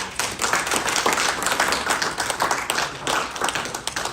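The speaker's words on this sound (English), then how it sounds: "Round of applause, ladies and gentlemen." A crowd applauds at the opening ceremony of the Vailima Pro-Am Championship and IBFC Samoa Open in Samoa, steady dense clapping close by for a few seconds with no voices.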